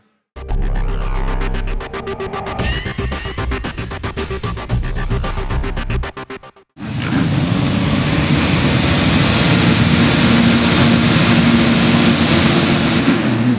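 Motocross bikes revving together at the start gate of the second race of the 2016 Belgian championship at Kester, a loud buzzing engine roar, then a brief drop and a surge into a dense, sustained wall of engine noise.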